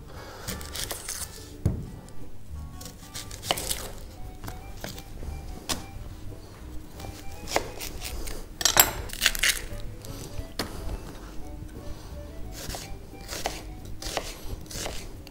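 Knife chops through half a red onion on a kitchen board in a steady series of sharp, close taps, with brief pauses between bursts; no talking over it.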